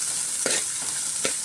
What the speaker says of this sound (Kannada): ಈಗ ಈರುಳ್ಳಿ ಹಾಕ್ಕೊಂಡು ಈಗ ಸ್ವಲ್ಪ ಚೆನ್ನಾಗಿ ಫ್ರೈ ಮಾಡ್ಕೊಳ್ಳೋಣ